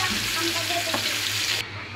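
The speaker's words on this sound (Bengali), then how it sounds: "মাছটা আমার ভাজা হয়ে আসছে," Belly pieces of pangas fish fry in oil with a steady, close crackling sizzle, and a brief soft clink partway through; the sizzle drops to a quieter hiss near the end, with no one speaking.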